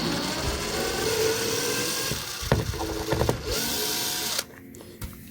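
A power driver sinks a longer screw into a wooden door frame stud to fix a sagging door, with close whirring bursts and ratcheting clicks that stop abruptly near the end.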